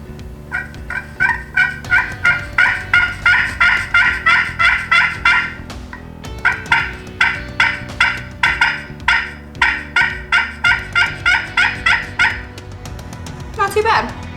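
A turkey hunting call worked by hand to imitate a gobbling turkey, with long runs of rapid raspy rattling yelps in two bursts, close and loud, ending with a brief voice.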